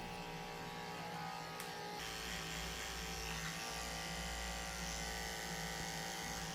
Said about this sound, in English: Also shaving under her belly with a tin blade also.